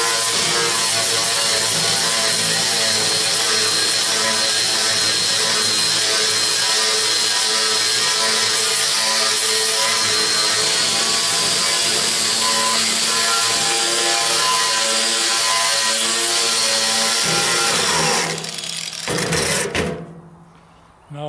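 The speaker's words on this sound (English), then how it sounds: "Let's try a different kind of sander." A power sander with a sanding disc grinds paint off a tool box, a loud continuous whining drone held steadily close-up before winding down near the end.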